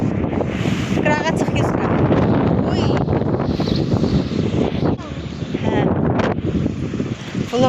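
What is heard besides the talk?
wind blowing outdoors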